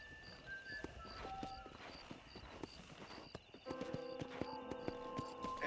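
Horse hooves clip-clopping in the video game Red Dead Redemption, a faint, steady walking rhythm of hoof strikes among soft game ambience and occasional chiming tones.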